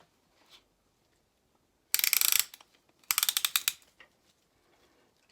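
A ratchet tightening a part on a Chevy V8 engine being built for a Dax Cobra: two close, crisp runs of rapid clicking, each lasting under a second, separated by a brief pause and followed by a few softer clicks, with no talk.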